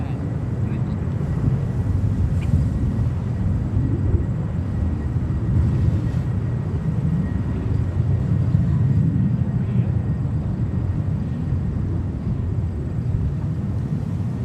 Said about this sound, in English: Now we have Air India 777-300 coming up here.